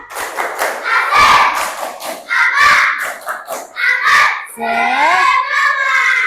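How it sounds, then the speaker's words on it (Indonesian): A class of children does the tepuk semangat clapping chant, with rhythmic bursts of clapping and thuds alternating with shouted group chanting, loud and close. "kita mulai dari semangat, tepuk semangat biasa. Tepuk semangat."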